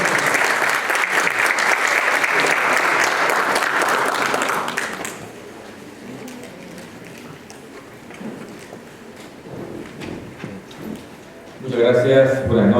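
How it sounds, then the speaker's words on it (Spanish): Loud applause from an audience at a public political forum fills the first few seconds, then drops away abruptly to a quiet room with faint murmurs before a sudden louder burst of sound at the very end. "Lo recibimos con fuerte aplauso."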